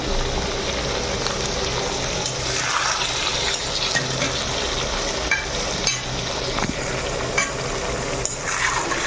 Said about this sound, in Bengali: ভালো করে ভেজে নিতে হবে মাংস মাংসগুলো